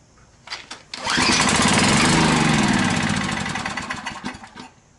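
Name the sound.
generator engine starting up and running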